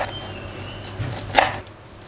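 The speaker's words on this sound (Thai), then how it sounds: "นี่หั่นเป็นลูกเต๋าเหมือนกัน" A knife dices a bell pepper on a cutting board, with a few light taps and one sharper cut, close by in a quiet room.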